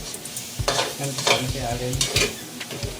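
Adobo flakes toast and sizzle in a pan, a steady hiss broken by repeated stirring scrapes and knocks, with a brief spoken remark over it.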